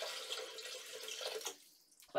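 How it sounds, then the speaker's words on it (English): Water pours from a tap into a Thermomix bowl, a steady splashing stream under a voice, then cutting off near the end. "Place 500 grams of water into the bowl."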